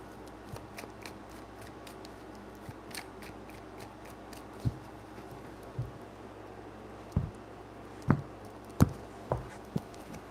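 Tarot cards are shuffled by hand in a quiet room, a series of soft riffling snaps and sharp clicks that grow more frequent, close and fairly faint over a low background hum.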